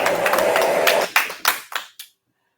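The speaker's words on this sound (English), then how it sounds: "We give you a round of applause for that." Small group clapping during a podcast recording, a brisk round of applause that thins to a few last separate claps and then stops, fairly close with no talk over it.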